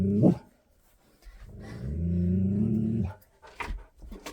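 A dog growls in a low, rumbling snarl lasting about a second and a half, with shorter grumbles and huffs before and after, close and fairly quiet.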